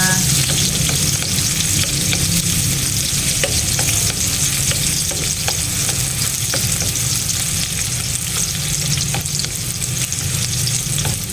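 Onions sautéing in a hot pan as the base for a crab dish cooked in coconut milk with squash, a loud, steady, dense sizzle running throughout with no voices over it.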